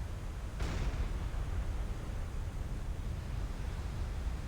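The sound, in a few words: explosion of a ship hit by torpedo in video game Silent Hunter 5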